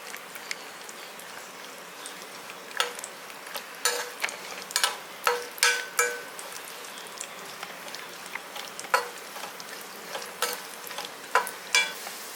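Cashew nuts fry in a pan for kalkandu pongal, giving a faint, close sizzle broken by a scatter of sharp crackles and pops at irregular intervals.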